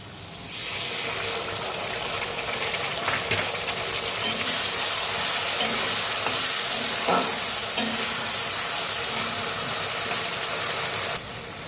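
Potatoes fry in oil with tempered spices for a potol alu paneer dish, giving a loud, continuous sizzle that starts abruptly and runs steadily with faint stirring clinks, then cuts off near the end.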